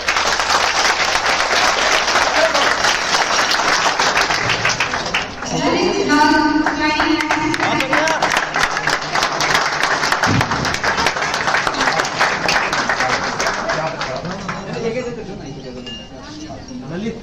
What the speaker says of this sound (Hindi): चलो यार ताली लगनी चाहिए।